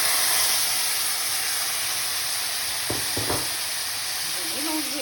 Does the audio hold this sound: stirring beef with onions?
yes